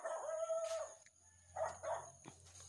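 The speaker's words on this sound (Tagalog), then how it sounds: "ang aso, nagsitahulan" Several dogs bark in short bursts, a first outburst followed by a pause and then two more clustered barks, moderately loud over a low steady hum with no talking.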